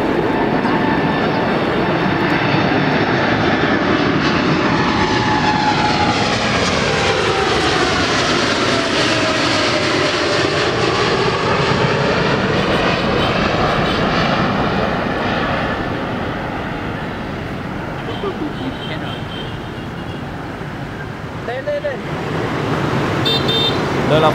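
A Vietnam Airlines Boeing 787-10 taking off from Tan Son Nhat airport in Saigon, a loud sustained jet engine roar with a sweeping pitch that swells as the aircraft passes, then slowly fades into the distance.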